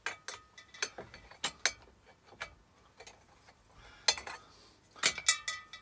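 A 12 mm spanner works the nuts off a fire extinguisher being stripped for scrap: sharp metallic clicks, ticks and clinks in irregular bursts, close by and fairly quiet, with no speech.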